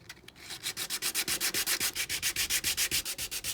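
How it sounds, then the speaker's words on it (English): Front face of a small resin charm sanded by hand, a steady run of rhythmic back-and-forth scratchy strokes, close and fairly loud, with no talking. "Time to sand the front surface and make it a little rough."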